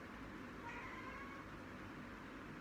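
A cat meows once, faint and close, against a quiet indoor background.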